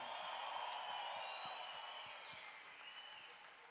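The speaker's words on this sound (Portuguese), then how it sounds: "uma salva de palmas." A concert crowd at the João Rock 2022 festival applauds the bassist during the show, a steady distant wash of clapping and cheering with a faint whistle-like tone gliding above it.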